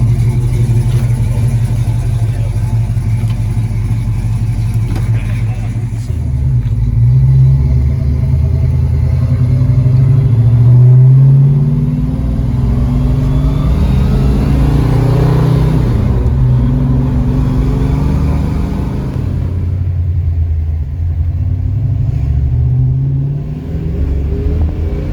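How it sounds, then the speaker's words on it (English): A 1962 Plymouth Fury engine rumbles loud and near while the car is driven, revving up and easing off several times in deep, steady surges with no talking. "we're going to take the Fury for a spin here."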